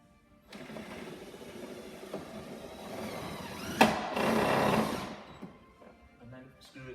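A power driver screws bolts into steel beside the tailgate motor housing of a VW T5 campervan, a close motor whine building over several seconds with a sharp knock midway, then easing off.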